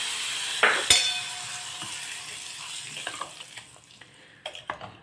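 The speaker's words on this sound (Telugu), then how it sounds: "స్టవ్ ఆఫ్ చేసేసి మనం వేసుకున్న తాలింపుని ఈ మనం వేసిన పచ్చట్లో వేసేద్దాం" Hot tempering with asafoetida tipped into a traditional chutney, giving a sudden sharp sizzle that quickly fades into soft stirring and faint clinks, close and alone without talk.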